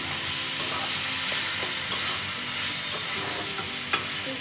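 Chicken momo filling with cheese being stirred in a hot pan, a steady close sizzle with repeated scraping strokes and small taps of the spoon throughout, no voices.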